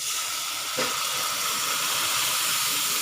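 Ragda poured into a hot pan seasoned with turmeric, giving a loud, steady sizzle and hiss that starts with a brief splash and holds evenly throughout, with no voices.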